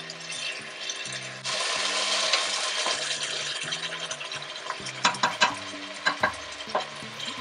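Fish frying in a pan for peanut sauce, giving a steady close sizzle. Sharp clinks and scrapes of stirring come through toward the end, with a tonal backing sound underneath.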